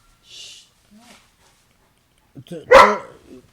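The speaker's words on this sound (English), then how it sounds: "every time it says Assalamu alaikum, Doogie starts barking" A dog indoors gives a short burst of barking: a faint yip or two early on, then a loud, close bark with a brief whimpering tail in an otherwise quiet room.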